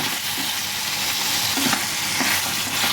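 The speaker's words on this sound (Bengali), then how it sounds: "এই মশলাটা দিয়ে আমাদের ঘরে ভালোভাবে কষতে হবে যাতে মশলাটা চিকেনের মধ্যে অবজর্ব করে।" Chicken is stirred and fried with a pre-fried masala in a pan for chicken makhani: a steady, close oily sizzle with repeated scraping strokes of the stirring spoon, and no talking.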